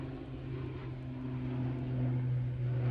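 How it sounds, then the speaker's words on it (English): ATR turboprop aircraft departing for Belfast from Manchester Airport, a steady distant drone with a low hum that slowly swells over a few seconds, heard alone. "Erlingers ATR now departing back to Belfast"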